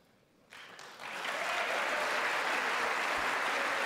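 Applause from a large audience in a chamber during a State of the Union address, starting quiet, swelling after a second into a loud, sustained roar of clapping that stays steady to the end.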